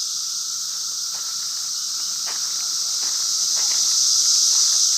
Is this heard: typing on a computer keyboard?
no